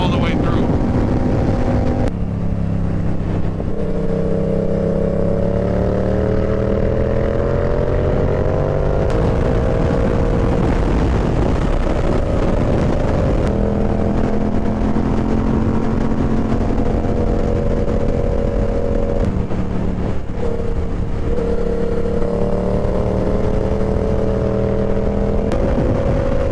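A motorcycle engine on a group ride climbs and drops in pitch through repeated gear shifts, loud and close under steady wind rush across the microphone.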